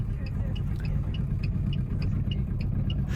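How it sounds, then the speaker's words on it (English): Small European moped car engine held at full throttle, a steady buzzy drone with constant rumble and a faint rhythmic ticking, unrefined and continuous throughout. "definitely doesn't sound refined like a regular car"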